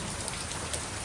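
Heavy rain pours steadily outside a house as water seeps indoors, a dense, even hiss of falling drops with no pauses.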